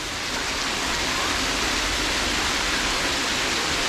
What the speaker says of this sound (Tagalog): Here in Toyama. Where it's raining.